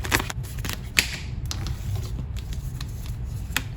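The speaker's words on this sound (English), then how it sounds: "I'm gonna keep shuffling." Tarot cards being shuffled by hand, a steady run of soft riffling clicks and flutters with a few sharper snaps, close and continuous for several seconds without talk.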